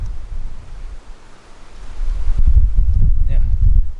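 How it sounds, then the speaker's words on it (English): Heavy wind buffets the microphone near Broken Hill with low rumbling gusts that build and grow louder toward the end, with no clear voice. "it's very, very windy here, so hopefully you can hear me"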